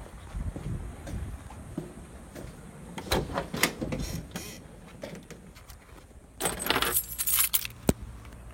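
Keys jangle in bursts near the microphone, loud metallic rattling that comes and goes over wind and rustling noise, with a sharp clink near the end.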